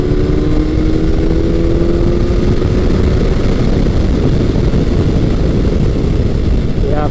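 A 1999–2007 first-generation Suzuki Hayabusa motorcycle accelerating hard, its engine note rising steadily as revs climb past 5,000 RPM, loud and close with a continuous roar and wind rush throughout.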